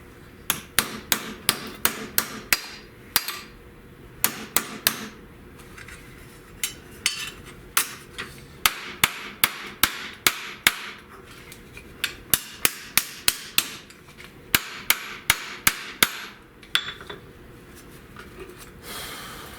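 Steady, sharp hammer strikes ring out on metal, dozens of them in quick, slightly uneven rhythm with brief pauses, close and loud.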